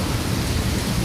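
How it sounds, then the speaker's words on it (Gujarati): Rain falling outdoors, a dense, steady hiss of heavy drops with a low rumbling undertone, loud and close for a brief moment. "જો વરસાદ ચાલુ હોય"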